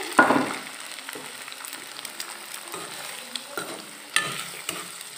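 Egg frying in a pan with Maggi noodles while being stirred, giving a low steady sizzle broken by scraping utensil strokes, a louder scrape at the start and another near the end.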